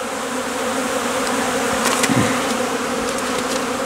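Honeybees swarm and settle on a beehive lid in February, giving a dense, continuous buzz of many insects nearby, with a few individual bees droning louder as they pass close.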